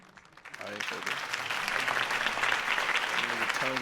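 A crowd bursts into applause that swells quickly and keeps going, with a voice faintly calling out beneath the clapping.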